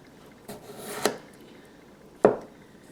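A knife cuts through food on a board in three distinct slices, each a short rasping drag that ends in a firm tap, the last one loudest, heard close with quiet pauses between strokes.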